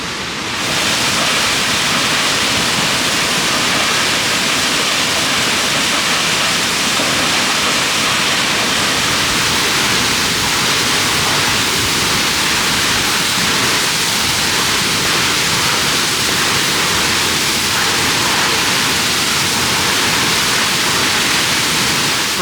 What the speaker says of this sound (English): here we are. Almost behind the falls.